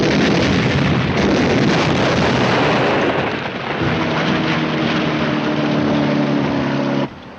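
A WWII artillery round is fired and bursts in a loud, sustained roar that rumbles and trails off, with a steady droning tone in the second half before it cuts out abruptly.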